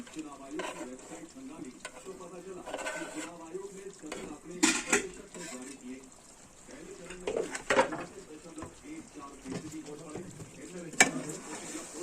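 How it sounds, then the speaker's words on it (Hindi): Chicken curry in Kashmiri style being stirred in a pot, with soft scraping and stirring strokes and a few sharper clinks against the metal, fairly quiet and unsteady. "अब हम इसको मिक्स कर रहे हैं।"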